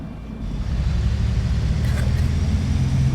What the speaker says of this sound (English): the noise of this bus is just so different to the city buses